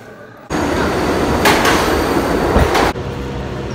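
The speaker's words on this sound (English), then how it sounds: "We're in a medieval times train station right now and on our way to rehearsal." A train passes through a station in a loud, steady rumble that starts abruptly and cuts off after a few seconds, with rattling, clattering wheels and a faint murmur of voices.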